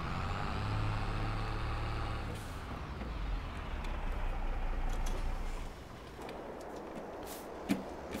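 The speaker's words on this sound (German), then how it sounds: "Er hat gesagt, der Schlepper ist zu weit gefahren." A heavy tractor engine drones steadily in the Landwirtschafts-Simulator 22 farming game, loud and continuous, with a brief air-brake hiss and a drop in engine note partway through.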